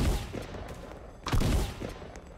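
Gunfire in the Roblox game Da Hood: a quick volley of sharp shots, several close cracks with a heavier burst around the middle, no voices.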